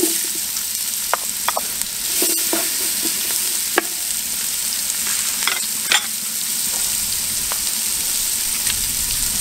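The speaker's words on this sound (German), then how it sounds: "jetzt kommen die Zwiebeln rein mit dem Knoblauch" Onions and garlic frying in veal steak pan juices give a steady, close hiss, broken by scattered clicks and scrapes of stirring throughout.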